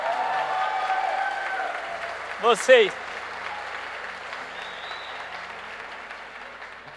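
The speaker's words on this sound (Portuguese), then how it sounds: "Pode aplaudir então, já que você vai aplaudir." Audience applause fills a church sermon, a steady wash of clapping throughout with a brief voice rising over it midway.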